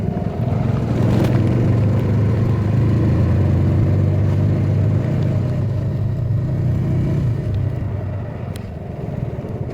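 Royal Enfield Classic 350 motorcycle with its stock exhaust, a steady low engine rumble running continuously throughout at fairly close range, mild rather than loud, fading slightly toward the end.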